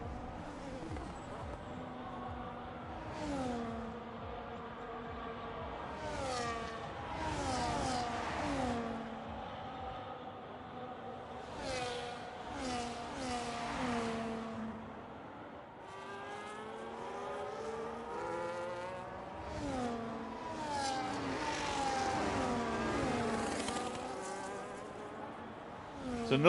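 Haas Formula One cars in an F1 racing video game passing by at a Las Vegas race, with high, buzzing engine whines that rise and fall in pitch as several cars sweep past one after another.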